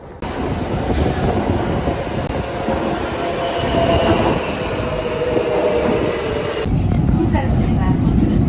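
A metro train in Istanbul rumbles along the rails with steady rolling noise and faint wheel squeal, loud and close, changing character near the end as it slows or shifts.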